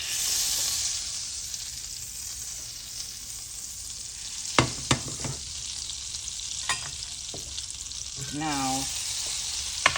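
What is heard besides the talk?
butter and olive oil sizzling in a pan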